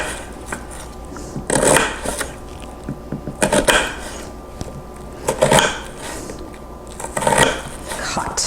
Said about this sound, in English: I'm going to thinly slice this onion.